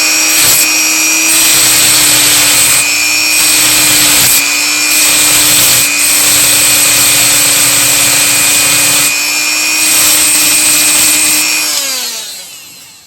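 Power tool trimming the top off the volume control of a 1961 Zenith 500H radio, a loud steady high-pitched whine running continuously for about twelve seconds before spinning down and stopping.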